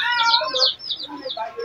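Chicks peeping in a backyard incubator setup, rapid high bright cheeps in quick overlapping bursts, close and fairly loud.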